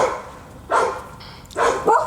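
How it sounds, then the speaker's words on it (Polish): Dogs barking nearby: two loud bursts of barks with a short yip between, separated by quiet background, with no talk over them. "Przepraszamy w ogóle za psów."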